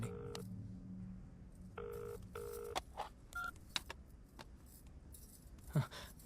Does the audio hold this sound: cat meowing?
no